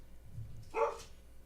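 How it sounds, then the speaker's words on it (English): A single faint dog bark sounds far off in the background, one brief yelp standing alone against quiet room tone. "That's perfect that the dog is barking in the back during that bit."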